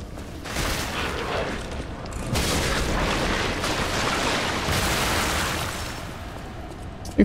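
An enemy blows up in Lies of P, a sustained roaring blast of explosive noise that swells and rumbles for several seconds before a sharp final pop at the end.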